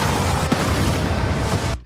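Explosions from a superhero movie trailer rumble in a dense, loud, booming roar with one sharper burst partway through, then cut off abruptly into silence.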